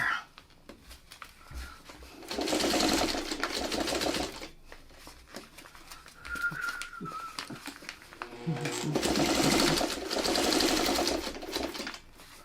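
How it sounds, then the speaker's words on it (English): A sewing machine turned slowly by its hand crank while piecing a quilt block, giving two bursts of soft rhythmic stitching clatter separated by quieter handling noise, close and clear. "Maybe I should slow down and get right over the needle by hand cranking."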